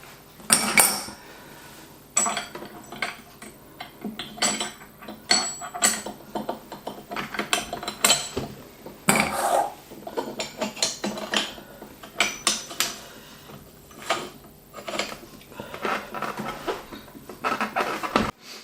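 Metal parts of a meat mincer are fitted together, including the coarse plate, producing irregular clanks, clicks and scraping knocks in separate bursts with short pauses between them, close and fairly loud, with no talk.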